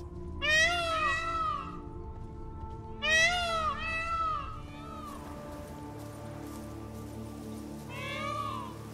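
Cat meowing in The Witcher 3 Blood and Wine: two clear, fairly loud drawn-out meows close together, then a quieter third one after a pause, over light rain-like background patter.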